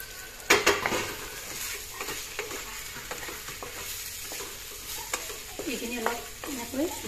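Okra and potatoes fry in a pan while a utensil stirs them, giving close scraping and clinking strokes over a steady sizzle, with sharper clatters at irregular moments and no talk.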